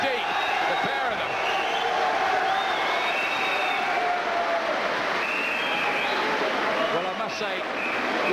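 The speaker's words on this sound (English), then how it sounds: "Crowd here at the Elephant loving it." A boxing crowd at the Elephant cheers and applauds during a lightweight bout between Johnny Armour and Francis Ampofo. The steady, dense roar of the arena audience runs throughout under a commentator's voice.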